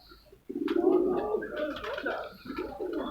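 Loha breed pigeons coo close by in a short run of throaty, rolling calls after a brief quiet start.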